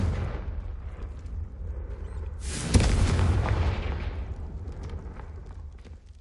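A Confringo fire spell from Hogwarts Legacy detonates in a loud, sudden blast that swells into a long rumbling roar and slowly fades over a busy game soundscape.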